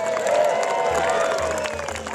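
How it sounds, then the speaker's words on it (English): An audience at a family knight show cheers and claps for Sir Philip in a dense, loud wash of crowd noise that fades slightly near the end. "let's have a huge cheer for Sir Philip"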